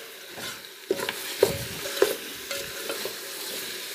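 Sautéing in a pan on a home stove during a power cut, with a steady low sizzle and several sharp clinks of a spoon scraping and tapping the pan spread across the clip, no voices.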